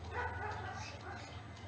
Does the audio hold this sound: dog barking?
yes